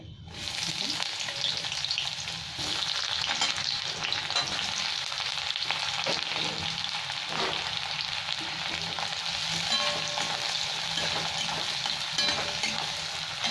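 Dry red chilli and black cumin (kalo jeera) fry in hot oil for a Bengali posto, giving a dense continuous crackling sizzle with scattered pops and some stirring scrapes. No one speaks.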